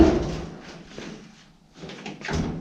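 A worn wood-framed door on a 1936 GMC truck creaks and scrapes open with a few dull knocks and rattles, a loud thump at the start and more clatter near the end.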